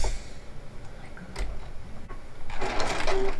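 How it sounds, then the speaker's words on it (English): Sewing machine stitching fabric for a handmade garment, a steady rapid mechanical whir that grows louder and denser partway through, close by with no talking. "So I'm just gonna sew right here and see how it's gonna turn out."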